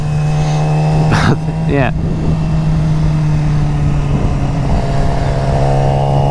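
A Yamaha R6 sport motorcycle engine drones steadily at an even pitch throughout, close and loud, while someone talks over it.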